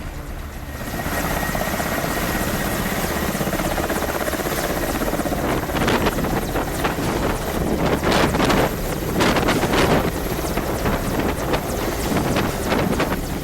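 A helicopter landing in hilly Himachal Pradesh during flood disaster relief makes a loud, steady rotor roar mixed with wind buffeting, with rhythmic blade chopping growing stronger toward the middle and no voices.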